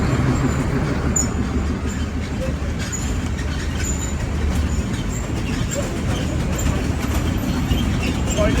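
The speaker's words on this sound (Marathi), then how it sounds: "ही आहे माथेरानची ऐतिहासिक ट्रेन" Rumbling Matheran historic hill train running with a continuous low mechanical drone and faint clattering, steady and close throughout.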